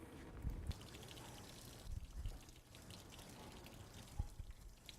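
Coolant draining from a car radiator during a cooling system flush, a faint steady trickle and splash of liquid with a few soft thumps, no talk.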